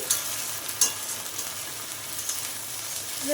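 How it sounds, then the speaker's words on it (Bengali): A ground paste of cumin, ginger, green and dried chilli, garlic and tomato fries in a pan with a soft, steady sizzle, broken by a few brief stirring scrapes near the start. "ভালো করে কষিয়ে নেবো মশলাটা দেখো মশলাটা প্রায় কষানো হয়ে যাচ্ছে"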